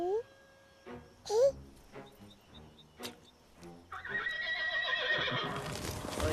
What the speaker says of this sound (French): Regarde-moi ces pauvres chevaux.